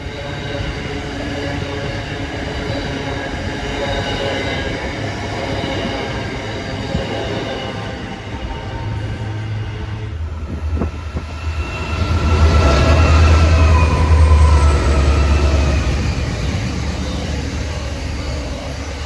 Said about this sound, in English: They typically haul interstate intermodal trains such as this one